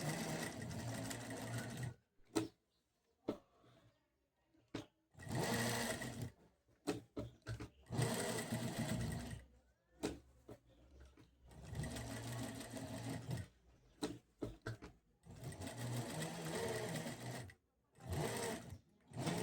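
A sewing machine doing lock stitching runs in repeated short bursts of close, rapid stitching separated by silent pauses, with brief handling clicks between runs.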